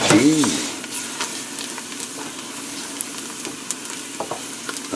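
Chopped onions sizzle and fry in a hot roux for a traditional chicken stew, with a steady close frying hiss, scraping stirs and small pops throughout.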